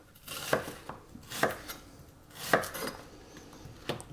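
A knife chops onions on a cutting board for vegetable broth, with four sharp, separate strikes spaced about a second apart, close and fairly quiet, with light kitchen clatter between them.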